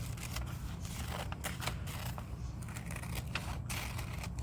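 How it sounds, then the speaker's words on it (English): Scissors cut down paper material for a glue book, a series of close, crisp snipping clicks at an irregular pace over a quiet background. "Now, I think I'll cut that down a little bit."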